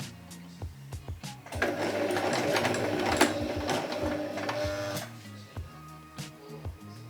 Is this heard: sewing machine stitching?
yes